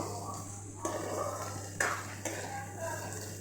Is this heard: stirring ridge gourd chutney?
yes